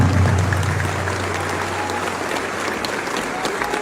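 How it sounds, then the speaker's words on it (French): An audience applauding Niger's president Abdourahmane Tiani at an official gathering, sustained dense clapping from a large crowd at moderate distance with a low hum beneath, fading slightly over its length. "Je vous demande de l'applaudir très fortement,"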